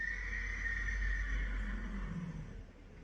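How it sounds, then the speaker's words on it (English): A horse gives one long, loud whinny that carries for about two seconds before fading. "And the horses agree."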